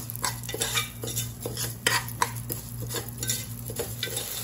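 A spoon stirs and scrapes in a pan while ingredients lightly roast for sakkarai pongal, giving repeated metallic clinks and scrapes over a faint steady sizzle, with no one speaking.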